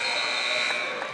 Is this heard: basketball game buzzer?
yes